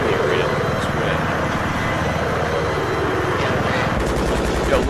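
An attack helicopter and rapid machine gun fire in Battlefield 3 roar continuously through a dense, loud battle din, heard beneath excited overlapping voices.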